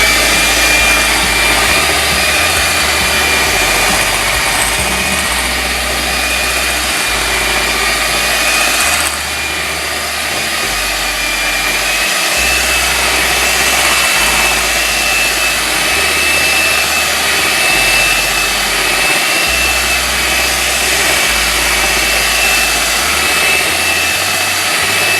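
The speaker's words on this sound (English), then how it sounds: "I will proceed to mix it once more, and this is the final mix" An electric mixer whips Victoria sponge cake batter in a loud, continuous whir, running steadily for a long stretch with only slight shifts in tone.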